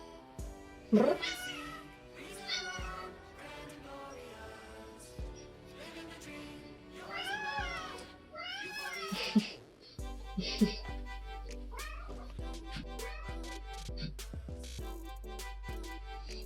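A cat meows repeatedly in drawn-out, rising and falling cries, close by, with a voice speaking softly between the calls.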